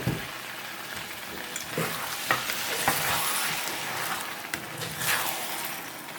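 Meat broth poured into rice frying in a pot, with loud continuous sizzling and the scrape of stirring, close and steady, the frying hiss swelling in waves as the liquid hits the hot rice.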